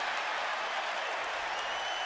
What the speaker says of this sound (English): The crowd wants punch out number eight, and they get it.